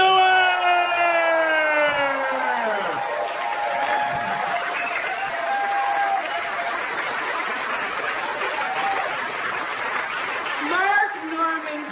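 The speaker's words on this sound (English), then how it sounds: "Put your hands together for Amy Schumer" A stand-up comedy audience applauds a comedian's entrance with a steady, dense wash of clapping that lasts throughout, mixed with rising and falling whoops and cheers at the start and end.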